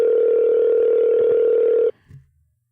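One long, steady telephone ringing tone sounds on a call for just under two seconds, then cuts off abruptly, followed by a brief faint rustle and quiet.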